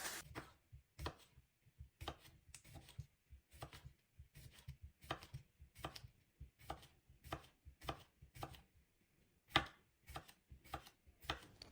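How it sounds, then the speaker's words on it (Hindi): Vegetables chopped on a cutting board for a zinger burger: a steady run of crisp, close knife strikes, some quick and clustered, some spaced apart, with no talk over them. "सारी सब्जियां जो मुझे पसंद हैं वो मैं अपनी मर्ज़ी के मुताबिक कट कर रही हूँ"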